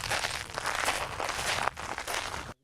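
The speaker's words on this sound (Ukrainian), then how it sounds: "а замість рясної води шорхіт мушель." Dry shells crunch and rustle underfoot on the bed of a dried reservoir, a close, continuous scratchy crackle of walking steps with a brief pause before the crunching resumes.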